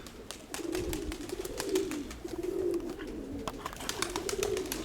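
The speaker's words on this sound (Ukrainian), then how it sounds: "Голубка на яйцях сидить." Soft, repeated cooing of a Mykolaiv pigeon hen sitting on eggs, in a steady rolling rhythm, close by, with faint chirps and rustles around it.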